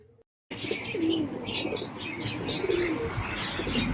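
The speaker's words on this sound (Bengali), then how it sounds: "ফিট সাদার মধ্যে একজোড়া ম্যাড্রাস পায়রা" A pair of Madras pigeons coo close by in repeated soft throaty calls over a faint rustle, beginning abruptly after a brief silence, clear and alone without speech.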